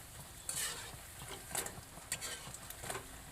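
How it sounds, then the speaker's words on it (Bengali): Eggplant fritters (beguni) frying in hot oil give a soft, steady sizzle, broken by several brief bursts of stirring and turning, with no talk. "এইভাবে উল্টে পাল্টে সবগুলো ভেজে নেব।"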